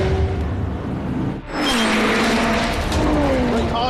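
A McLaren 720S sports car is driven hard on a race track. Its engine note rises loud and close, dips briefly at a gear change and then climbs again with rising pitch, and a voice talks over it.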